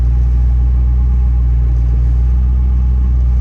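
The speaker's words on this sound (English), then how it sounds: "the 600 Edelbrock, it seems to be running pretty sweet" Car engine fitted with an Edelbrock 600 carburetor idling a little fast, a steady close low rumble that holds even and unbroken with no voices.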